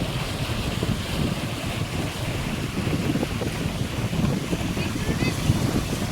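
The Mekong River rushes hard over rocky outcrops, a dense roar like sea surf, heard close and loud with heavy wind buffeting the microphone throughout.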